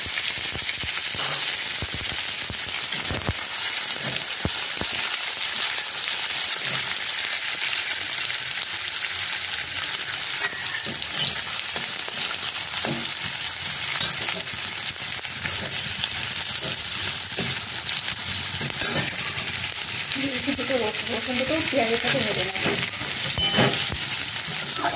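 Chopped onions fry in oil with cumin, bay leaf and dried chili for chicken, giving a steady, dense sizzle and crackle throughout with occasional stirring, close and alone without talk.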